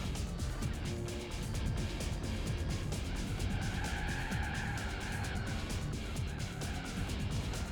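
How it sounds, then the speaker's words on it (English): Truck tires sliding on asphalt in the racing game Gran Turismo 4, a sustained wavering squeal over a constant engine drone that holds for several seconds. "No idea why the truck wanted to slide there"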